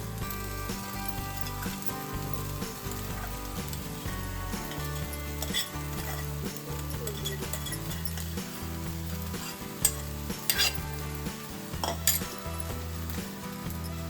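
Cooked rice for coconut narali bhat is stirred gently in a pan, giving steady soft scraping and sizzling with scattered clinks of a spoon against metal, close and continuous throughout.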